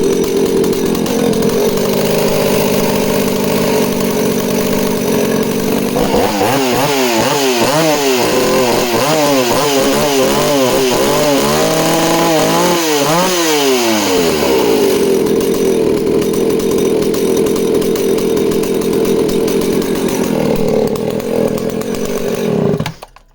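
Danarm 36 'hot rod' two-stroke chainsaw on its original factory carburettor idling loudly, then revving hard through a series of rising and falling cuts into wood before settling back to a steady idle and cutting off.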